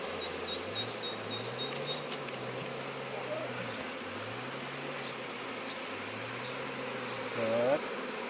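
A honeybee swarm taken down from an apple tree, its dense steady buzz holding close and continuous throughout, with a brief louder rise near the end.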